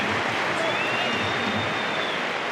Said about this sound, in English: Applause from around the ground here